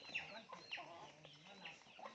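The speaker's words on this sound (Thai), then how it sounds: "เป็ดไก่ไปกินนะครับ มันแย่ง" Ducks and chickens clucking and squawking close by while feeding and competing for food, several short calls overlapping in a busy, faint farmyard scene.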